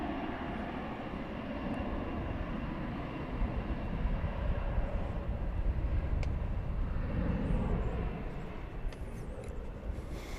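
Airbus A320 airliner at DFW Airport at night, a broad engine roar that swells gradually toward the middle and then holds steady before easing, heard from a distance with no talk.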